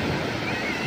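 Sea waves wash steadily around someone floating in the sea, a continuous soft rushing of water with breezy wind noise, close and even throughout.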